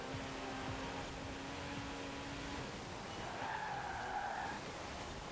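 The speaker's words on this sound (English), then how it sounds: "Somehow getting tyre squeal even in the snow." In Forza Horizon 4, a 1970s Porsche with a 2.7-litre flat-six slides on snow, its tyres squealing in a steady pitched wail for about a second over a constant rumbling engine and road noise.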